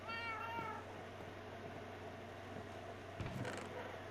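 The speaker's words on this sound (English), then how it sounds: "Hello, kitty." A cat meows in the video game The Path, with a few short, harmonic cries near the start over a steady background ambience, fairly faint.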